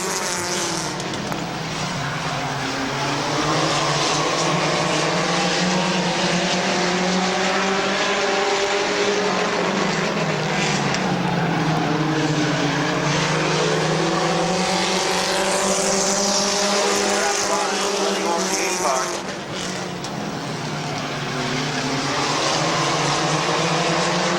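Compact race cars at Midvale Speedway roar continuously in a close pack, engines rising and falling in pitch as they jostle side by side, loud and sustained with a car sweeping past near the middle.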